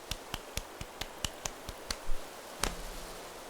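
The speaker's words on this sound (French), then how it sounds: "On applaudit." Light, evenly spaced claps from the video game Animal Crossing: New Horizons sound about a dozen times at a quick steady pace, fairly faint and close, with a soft rustle near the end.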